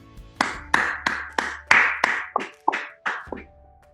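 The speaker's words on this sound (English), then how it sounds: "whoever it is, and give a round of applause." One person claps alone for a 2020 virtual master's ceremony: about ten crisp, close hand claps in an even rhythm, each with a short ringing tail in a quiet room.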